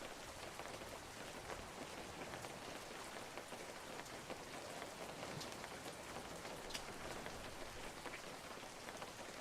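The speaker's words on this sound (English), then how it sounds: "I hear something raining next to me." Steady rain falling close by, a dense, even patter of drops on a hard surface with faint scattered splashes, continuing unbroken without any voices.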